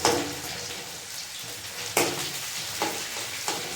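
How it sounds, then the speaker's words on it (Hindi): Onions frying in a pan, a steady soft sizzle with a few louder bursts of stirring, close and alone without talk. "अब डाल देते हैं प्याज, थोड़ा सा भूनने देते हैं"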